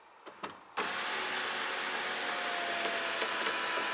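A sunroof motor on a bagged Acura TL whirs steadily after a couple of faint clicks, a continuous electric drone heard close inside the car with no voices.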